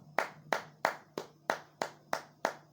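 Rhythmic unison clapping in a church gathering, about eight sharp, evenly spaced claps at a steady beat with a low hum beneath and no talk.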